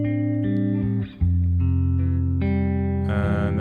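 A lo-fi hip hop track plays sustained synth chords with layered harmonics through Valhalla Room reverb, the notes washing and lingering between changes, with a brief dip before the chords return.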